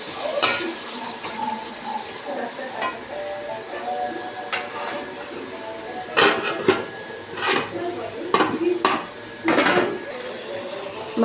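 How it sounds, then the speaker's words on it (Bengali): Meat is sautéed in a pot over lowered gas, with repeated metallic clanks and scrapes of a spoon stirring against the pot over a faint background sizzle. "মাংসটা দিয়ে ভালো করে আমি কষিয়ে নেব।"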